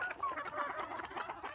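Native Bisaya chickens clucking on a farm, several overlapping soft clucks and calls in a steady, busy murmur at moderate distance with no talk.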